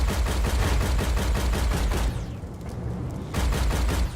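Rapid, continuous turret gunfire from a war machine in Warhammer 40,000: Freeblade. It hammers away loud and steady, stops briefly, then resumes for a final burst.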